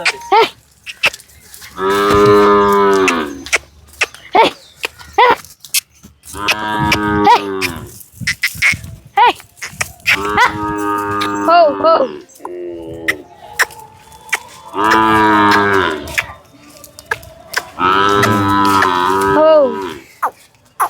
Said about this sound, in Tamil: இந்த மாடு என்ன உங்களுதா